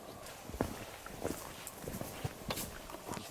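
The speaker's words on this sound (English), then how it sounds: "By the mules, the donkeys," Mules and donkeys walk a mountain path in the Zagori region of northern Greece, their hooves making scattered, fairly faint clops and scrapes at an irregular pace against quiet outdoor background.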